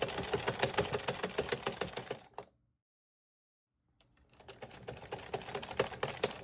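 An Addi 46-needle knitting machine works rows of a beanie in quick, regular mechanical clicks and clatters, close and clear, with a pause of about two seconds of silence in the middle before the rhythm resumes.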